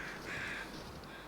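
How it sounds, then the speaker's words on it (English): Crows caw in The Long Dark, one hoarse call and a few fainter ones against a steady wind-like ambient rush, sounding somewhat distant and quiet. "Should always listen to the crows."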